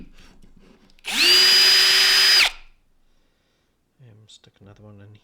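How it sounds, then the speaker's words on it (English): A power drill bores a pilot hole for a screw while a workbench vise is being fitted, one loud steady burst of about a second and a half, with a person talking softly before and after it. "So just drilling a pilot hole for"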